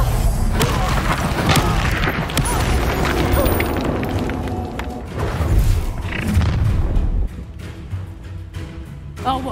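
A fiery Incendio spell blast in Hogwarts Legacy, a loud booming burst with roaring rumble and crackling, close and heavy, trailing off in sustained low roar with faint voices around it.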